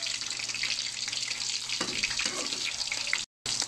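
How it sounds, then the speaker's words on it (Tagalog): Bidbid fish frying in oil, a steady hissing sizzle with a fairly constant crackle, moderately quiet and close, broken briefly by a short cut near the end. "Pinipirito ko na yung bidbid."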